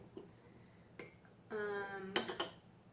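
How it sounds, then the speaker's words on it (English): A fork whisks keto chocolate mug-cake batter inside a mug, heard as a close run of quick scraping and a few sharp ceramic clinks between quiet pauses. "take a fork and kind of mix that up, whisk it a little bit"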